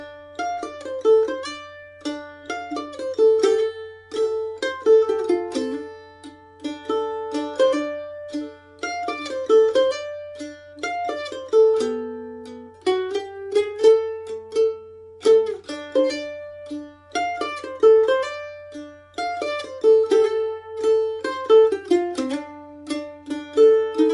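A solo mandolin plays a waltz melody, with bright plucked notes in a steady waltz rhythm and some tremolo on longer tones, close and clear with no talking.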